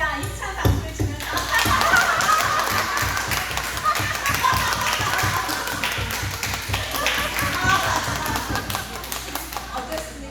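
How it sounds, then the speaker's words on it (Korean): An audience at a humanities lecture in a church claps hands in a quick, sharp, rhythmic patter, loud and sustained, with voices mixed in. "입을 크게 벌려서 박수를 치면서 한번 하하하 웃어보도록 하겠습니다"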